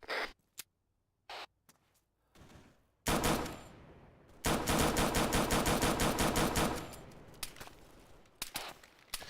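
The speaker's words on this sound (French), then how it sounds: "Ça me tire dessus." Gunfire in the video game Arma 3: rapid automatic bursts and scattered single shots, loud and close, separated by short quiet gaps, with no speech.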